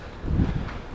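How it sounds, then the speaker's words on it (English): Strong wind during a small blizzard, a brief low roaring gust of microphone buffeting that swells and then eases over about a second. "It's super windy"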